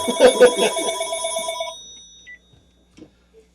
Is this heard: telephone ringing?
yes